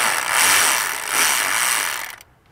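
Ratchet with a swivel socket working thermostat housing bolts on a Toyota Tacoma 4.0 V6, a steady close mechanical clicking and whirring for about two seconds before cutting off abruptly.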